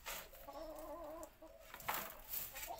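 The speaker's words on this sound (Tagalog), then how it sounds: "Manok, please, alis kayo." Chickens cluck close by in short, wavering calls, with faint rustling and background noise around them.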